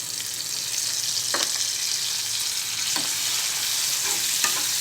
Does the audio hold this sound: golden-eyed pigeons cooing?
no